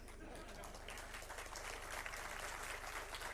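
Audience at a ministerial address clapping in a steady, dense wash of applause, moderately loud and continuous for a few seconds, with a low hum underneath.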